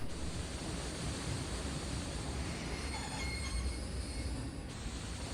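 Simulated train running in the EEP 6 railway simulator game, a steady loud rumble of wheels on rails with a thin high squeal rising briefly near the end, no voices.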